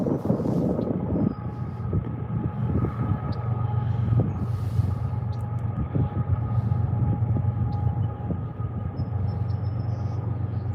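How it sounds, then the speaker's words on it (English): A distant train rumbles along steadily with a low, continuous drone and faint wind buffeting, no voices present. "I hear that train over there."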